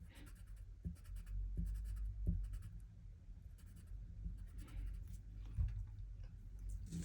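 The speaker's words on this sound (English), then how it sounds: "I'm gonna quickly bubble in the rest." Pencil scratching on paper while filling in needlepoint chart squares, a steady close scribbling texture with small taps as the lead moves between squares.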